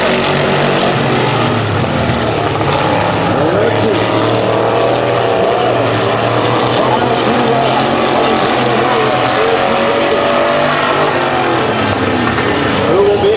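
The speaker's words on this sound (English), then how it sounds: "King of the hill with the final 2 cars left on the track" Race cars roar around a 250 speedway track, a dense continuous engine drone that rises and falls as they pass, with an announcer's voice over it throughout.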